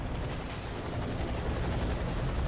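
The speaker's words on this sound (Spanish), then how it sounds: "Un helicóptero." A helicopter in the shooter game F.E.A.R. 3 drones steadily, its dense rotor and engine roar filling the whole stretch at a constant loud level with no talk over it.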